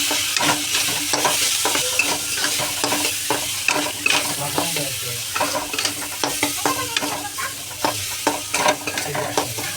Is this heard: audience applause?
no